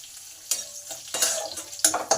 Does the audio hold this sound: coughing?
no